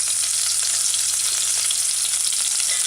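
Onions sauté in a hot pan, giving a steady, close, bright sizzle that holds evenly throughout with no pauses and no voices.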